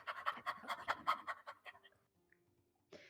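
A puppy pants right into a microphone, a rapid string of close breathy puffs that slows and fades, followed by near silence and a brief noise at the end.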